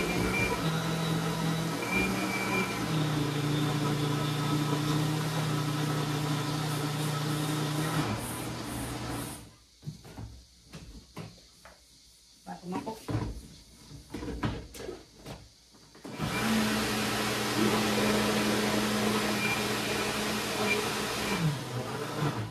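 An electric mixer beating carrot cake batter with flour, a steady motor whine that stops for several seconds of clattering handling noise, then runs again.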